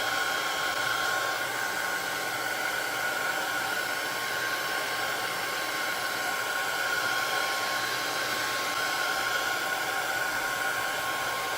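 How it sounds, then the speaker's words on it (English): A blow dryer runs steadily throughout, a continuous loud whooshing roar with a faint high whine, no pauses or changes. "Hit it with the blow dryer a little bit."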